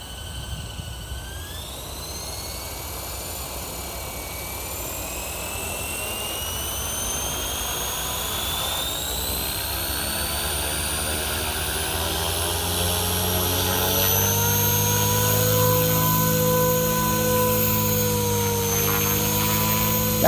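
Blade 500x RC helicopter lifting off on its first flight, a steady rotor and motor whine with rising harmonic tones that climb and hold as it flies, loud and close throughout.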